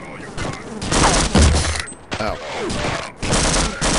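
Gunfire and combat noise in the Half-Life game, dense loud bursts of shots and mechanical clatter with brief pauses, while a man lets out a short cry.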